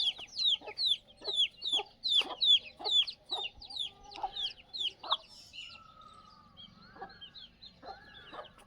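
Desi chickens cluck in a quick rhythmic series of sharp calls, fairly close and moderately loud, then the clucks slow into softer scattered murmurs at a free-range poultry farm.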